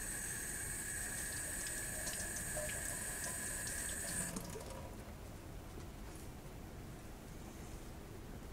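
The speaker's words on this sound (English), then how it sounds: "Let me wash my hands quick." Water runs from a kitchen tap in a steady, fairly close stream while someone washes their hands. The flow stops partway through, leaving only faint room noise.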